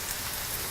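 Spring onion, ginger and garlic sizzle in hot sesame oil in a pan for a chilli chicken dish, a steady close crackling hiss with no talk.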